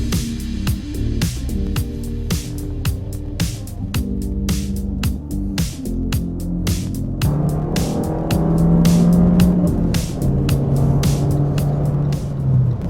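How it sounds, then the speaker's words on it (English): Fiat 500 Abarth Turbo, a repaired salvage car, driving on the road with a steady engine drone and rising revs toward the end, loud and close with regular ticking clicks throughout and no talk. "we can finally take it out on the road and see how it drives and performs"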